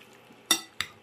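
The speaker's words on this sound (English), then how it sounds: "we're just going to mix this together now" Two quick scraping clinks of a utensil against a pan as cabbage roll lasagna ingredients are stirred together, close and moderately loud over a faint background.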